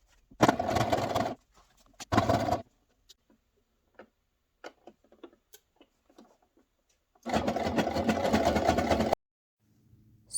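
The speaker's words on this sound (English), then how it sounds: "I'm just sewing down that edge now" A sewing machine stitches down the folded hem of a curtain in three loud bursts, two short ones close together and then a longer steady run, with quiet handling and small taps in the pauses between.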